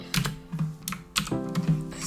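Rapid clicking keystrokes on a computer keyboard while Python code is written, an uneven run of close, crisp taps with a few heavier presses and no talking.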